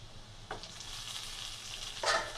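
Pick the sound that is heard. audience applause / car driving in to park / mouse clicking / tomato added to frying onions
tomato added to frying onions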